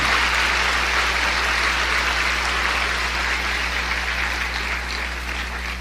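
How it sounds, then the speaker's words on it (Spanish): A church congregation claps steadily as a dense, even wash of applause. A low hum from the hall runs underneath, and there is no talking. "Denle un aplauso al Señor."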